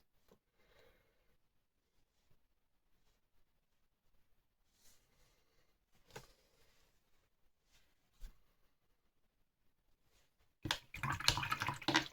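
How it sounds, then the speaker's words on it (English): A watercolour brush is swished and rinsed in a water pot: faint, brief sloshes and taps are scattered through a quiet stretch, ending in a louder burst of splashing and rattling. "Rinse my brush off."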